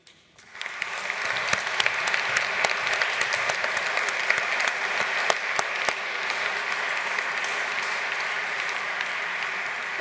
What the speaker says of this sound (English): I hope you can hear that applause coming through very strongly.